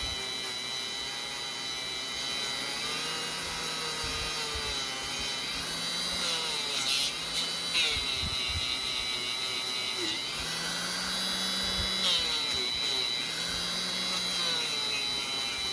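A Dremel with a buffing pad polishes the end caps of a slot car box, a close, steady high-pitched rotary whir with faint wavering pitch and light rubbing scuffs throughout.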